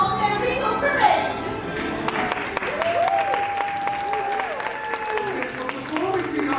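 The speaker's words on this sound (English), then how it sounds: "Welcome our royal friends with grand applause" An audience on the Disney Wish cruise ship breaks into loud, sustained applause and scattered cheers welcoming a Disney princess parade, with musical tones and an announcer's voice rising over the clapping.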